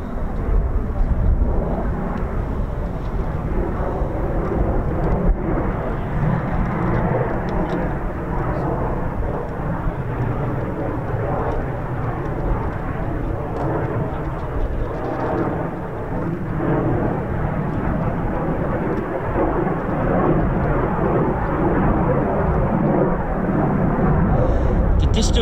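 Typhoon military jet flying overhead, a loud, sustained jet engine roar that holds steady throughout the whole stretch, with a voice speaking over it.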